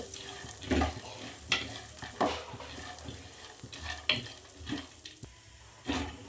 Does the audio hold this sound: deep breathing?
no